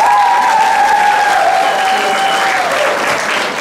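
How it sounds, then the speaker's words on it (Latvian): A school graduation-style evening ceremony crowd gives sustained, loud applause that fills the whole moment, a dense steady clapping that tapers slightly at the end, with a faint tonal whistle or feedback tone drifting underneath. "arī aplausi."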